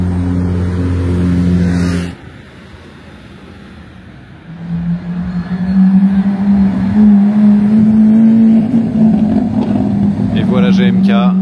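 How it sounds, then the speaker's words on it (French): A Porsche 991 phase 2 Turbo S engine, first idling, then after a quieter pause rising into a loud, sustained close rev with a buzzing, climbing drone. "Petite 991 phase 2 Turbo S."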